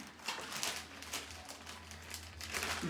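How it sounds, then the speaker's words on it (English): Packaged beef being unwrapped for a black pepper stir fry, soft crinkling of plastic wrap in irregular bursts, close and fairly quiet with a low background hum. "let me unwrap the other one"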